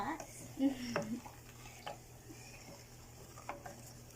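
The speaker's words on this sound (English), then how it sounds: "We have to keep stirring until we don't really see that anymore." A spoon stirs a solution in a container for eggshell geode crystals, making soft swirling sounds with a few faint clinks early on, quiet and close.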